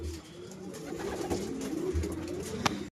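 A white pigeon coos close by in a low, steady, droning call that runs for about three seconds, with a brief sharp tap near the end and no speech.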